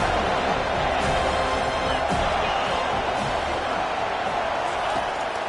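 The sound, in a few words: stadium crowd roaring a loud welcome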